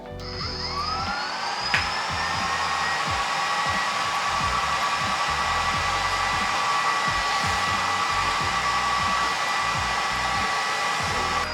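A loud, steady whirring hum of an IKAWA home coffee roaster roasting an espresso blend runs continuously with a high whine on top, close to the microphone, no talking.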